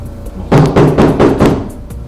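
Four or five quick, firm knocks on a door in an indoor home setting, evenly spaced and fairly close, with a low room murmur underneath.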